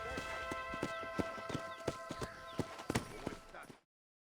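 Horse hooves gallop in Red Dead Redemption, a quick, regular run of clip-clop beats close by and fairly quiet, with a steady tonal hum beneath before cutting off abruptly.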